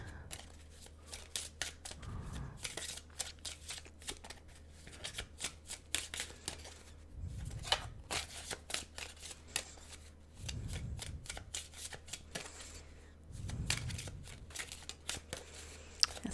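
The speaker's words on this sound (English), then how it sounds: "as I'm just looking at the cards here while I'm shuffling these" Tarot cards shuffled by hand in repeated riffling bursts, several close, crisp flutters spaced a few seconds apart over a quiet background, with no talking.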